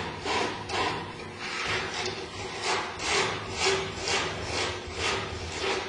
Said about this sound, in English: You can hear that noise of the sandpaper going through my fingers.